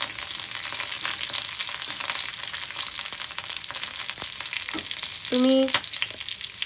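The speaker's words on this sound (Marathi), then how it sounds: "हलकसं फ्राय करून घेऊ, जेणेकरून ही जी मिरची आहे याचा कच्चेपणा निघून जाईल" Green chillies fry in hot oil for a cauliflower and pea dish, a continuous close sizzle with occasional stirring scrapes and a brief clink near the end, while a voice speaks a single word.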